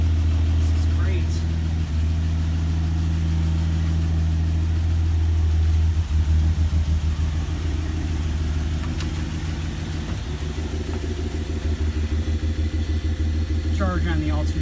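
A garage-find 1971 Dodge Demon with a rusty exhaust system idles steadily and loudly up close, a low rumbling drone with slight rhythmic pulsing while someone talks over it.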